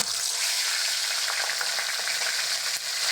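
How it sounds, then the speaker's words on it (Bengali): Puti fish head frying in hot mustard oil gives a loud, steady, bright sizzle with small crackles throughout, and no voices. "সবার আগে আমি মুড়োটা ভেজে নেব"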